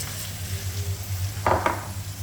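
Onion frying in butter in a pan, with a steady low sizzle and a couple of quick stirring scrapes near the end.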